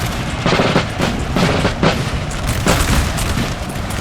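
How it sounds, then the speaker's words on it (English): Artillery bombardment rolls across a Napoleonic-era battlefield in Napoleon Total War, the Battle of Krabbendam of 1799, with repeated heavy booms and rumbling impacts over a steady din of massed musket fire. "Frenchies here are being pounded by artillery"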